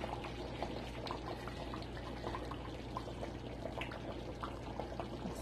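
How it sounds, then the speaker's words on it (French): Ivorian palm nut sauce bubbling in a pot, a faint, continuous simmer of small pops and gurgles with steady low background hum. "La sauce a bouilli depuis quelques minutes"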